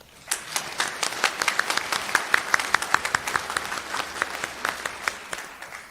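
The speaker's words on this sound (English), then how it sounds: "I think we all owe Wade a round of applause." Conference audience breaking into applause in a hall, a dense, steady burst of many hands clapping at moderate volume, rising quickly and holding through to the end with crisp individual claps audible.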